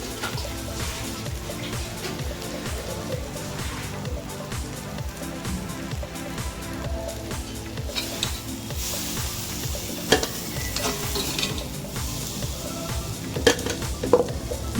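Green chillies are sautéed in a pan, giving a continuous close sizzle of frying with scraping stirs and occasional clinks of utensil on metal.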